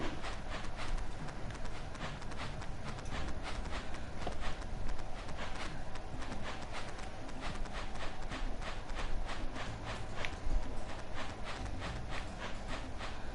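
Yak cows' hooves clop in a fast, even rhythm in the Jak & Daxter video game, a steady run of quiet, repeated taps with no voices.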